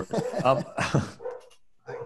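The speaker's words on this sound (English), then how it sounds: "My dog is barking, sorry." Dog barking in the background during an online talk, a few sharp barks mixed with people speaking.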